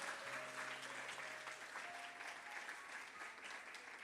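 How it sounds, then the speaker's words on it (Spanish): A church congregation gives steady, dense applause during a sermon, heard faintly from a distance, with a low sustained musical tone beneath the clapping. "Vamos a dar un aplauso fuerte al Señor si lo crees"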